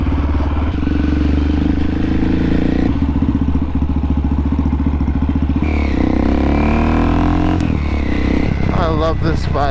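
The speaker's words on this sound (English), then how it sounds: "Hit the choke in. Up just a tad." A KTM motorcycle engine idles and revs after the choke is set, running loud and close with a rough, pulsing thrum throughout. A person talks over it near the end.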